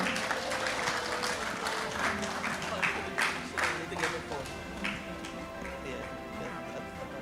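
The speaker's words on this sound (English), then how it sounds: "let's give everyone a round of applause" An audience claps at an awards ceremony, a sustained, moderately loud round of applause with individual claps standing out and crowd murmur beneath it.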